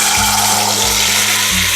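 Besan batter poured into hot oil with cumin and whole spices, a loud, dense sizzle up close, with a steady low hum beneath and no voices.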